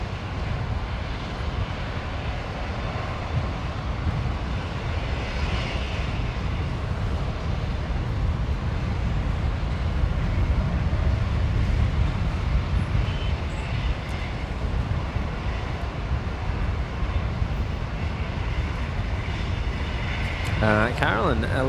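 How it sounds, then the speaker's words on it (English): A Qantas Link aircraft pushes back at Brisbane airport, producing a steady, distant low engine rumble and airport drone throughout, with people talking over it. "I have actually just spotted the Qantas Link 220 pushing back"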